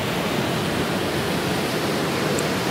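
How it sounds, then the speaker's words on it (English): A waterfall near a black sand beach on Madeira pours as a steady, loud, broadband roar of falling water, unbroken and with no voices over it. "And there's also like a waterfall here."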